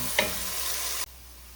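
Onions frying in a pan as the base for a meatball tomato sauce, a steady bright sizzle with a brief clink near the start that cuts off abruptly partway through, leaving faint background hiss.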